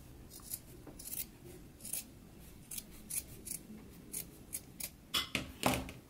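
Sewing scissors make a series of quiet, crisp snips while trimming a fabric seam allowance on a pants pattern, with a dozen or so irregular cuts close by.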